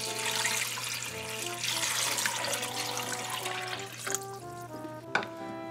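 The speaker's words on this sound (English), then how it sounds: "we're gonna add some water there" Water pours into a pot of sorrel, a steady splashing, filling rush for several seconds close by, thinning to a few drips and small clinks near the end.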